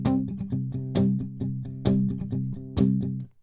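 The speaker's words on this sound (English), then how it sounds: "it also adds the percussive element of you kind of lightly hitting the bridge of your guitar" An electric guitar is strummed with palm-muted strokes and light percussive taps on the bridge, giving a tight, choppy rhythm of short chords with a few brighter accented hits.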